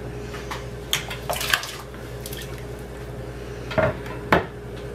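A metal lid is set onto a saucepan of borscht, giving a couple of sharp clinks and clanks near the middle and end over a quiet kitchen hum, with no talking.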